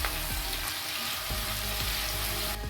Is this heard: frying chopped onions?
yes